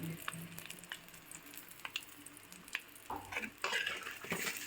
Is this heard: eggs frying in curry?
yes